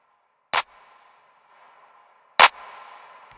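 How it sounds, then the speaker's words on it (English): An EQ'd clap drum sample in FL Studio, with body added by equalization, strikes twice about two seconds apart as sharp loud hits over a faint hum, with no speech. "See, that clap has a lot more body in it."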